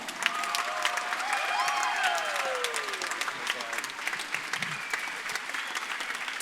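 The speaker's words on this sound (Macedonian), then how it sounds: "Аплаузот може да трае за градоначалникот" Applause for the mayor at a charity concert, steady dense clapping from a crowd filling the room, with brief cheers and voices rising through it.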